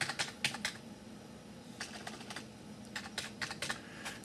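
A PIN is typed on a computer keyboard at close range: several clusters of quick key clicks separated by short pauses, with no talking.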